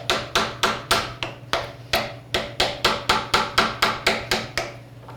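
A hammer drives a wedge against a small front part of a Bridgeport milling machine during disassembly, a quick steady series of about eighteen sharp metallic strikes, close and loud over a faint low hum.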